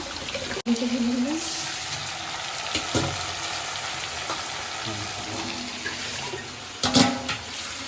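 Rice is washed in water in a home kitchen, with sloshing and splashing that runs through the whole clip and a few louder stirring and pouring moments along the way.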